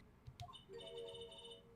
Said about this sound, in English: Nick, your cute phone is ringing.